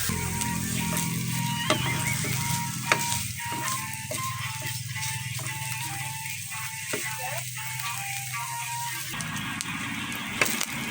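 Pork and chayote sautéing in a pan, a steady bed of sizzle and crackle with scattered clicks of a utensil scraping the pan, close by and continuous, no one talking.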